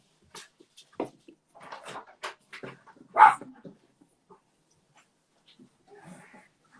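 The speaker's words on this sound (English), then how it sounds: "My dog's just going nuts." A dog worked up at a door, giving scattered barks and whines in short bursts with one louder bark near the middle, close by and without talk.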